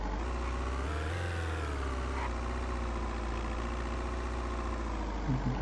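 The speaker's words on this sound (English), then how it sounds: "Turn on the engine." A vehicle engine idles and runs steadily in the survival game Vein, a constant loud low rumble with a strong droning hum that holds evenly throughout, with no voices.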